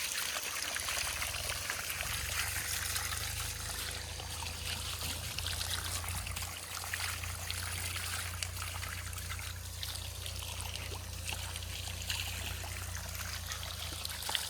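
Water pours and trickles steadily while a cow is bathed outdoors during Holi festivities, a continuous soft splashing stream at moderate distance with no clear talking.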